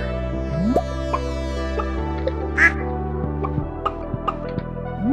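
Ducks quacking in the farming game Stardew Valley, several short quacks scattered over a steady game music bed, moderately loud and clear.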